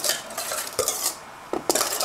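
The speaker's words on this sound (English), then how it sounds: "All right, we're just going to mix that up." A utensil stirs flourless, sugar-free chocolate cake ingredients such as beans, butter, eggs and cocoa in a bowl, giving a few soft scraping strokes and a handful of sharp clinks against the side, close and fairly quiet.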